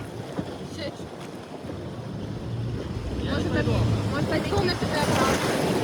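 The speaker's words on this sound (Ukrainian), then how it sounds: "Диви, хвилька." Big sea waves slap and surge beneath a boat at Banana Beach in Phuket, a loud, churning rush that builds with wind buffeting across the microphone.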